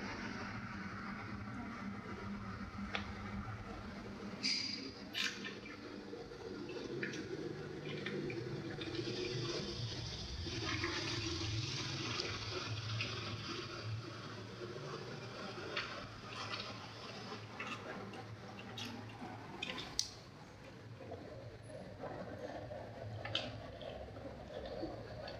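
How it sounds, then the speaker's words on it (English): Water is poured slowly into a tank, a continuous soft splashing and trickling with faint clicks and knocks, quiet and steady throughout with no talking. "now we're gonna add some water inside the tank slowly."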